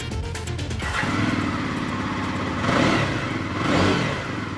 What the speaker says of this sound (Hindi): ये इसका फायरिंग एग्जॉस्ट है और जो इंजन की कैपेसिटी है 334 सीसी